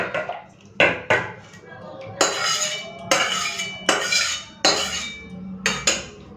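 Chanda fish sour curry being poured out of a metal pan, with repeated loud clanks and scrapes of a spoon against the pan in quick bursts close by.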